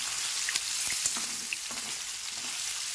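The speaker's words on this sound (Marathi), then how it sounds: "अशा पद्धतीनं आपण सगळे पनीर तळून घेऊ" Paneer pieces frying in hot oil, a steady soft sizzle with scattered small pops and crackles throughout, close and continuous, no voices.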